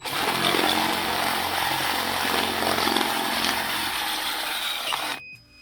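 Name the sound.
power tool enlarging holes in metal eyelets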